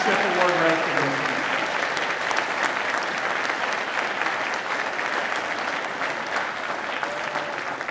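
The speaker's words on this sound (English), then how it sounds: "Let's have one more round of applause for our scholarship recipients and leadership award recognition." Steady, sustained audience clapping fills a high school auditorium after a band spring concert, dense and even throughout, with a brief voice at the start.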